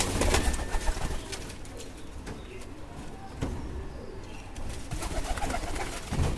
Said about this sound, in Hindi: ये वाइट कबूतर है दोस्तों,